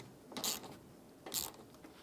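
Two short ratchet bursts tighten a nut on a 2012–2020 Ford Focus during radiator replacement, quiet clicking pulls separated by a pause, no speech.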